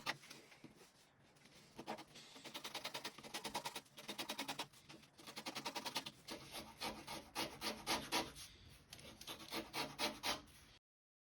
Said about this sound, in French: Moi j'ai utilisé un cutter, mais vous avez un couteau à parer, et on vient donc désépaissir les bords du cuir.